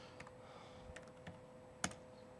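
Typing on a computer keyboard, a short sparse run of quiet keystrokes with one sharper press, heard close in a hushed room.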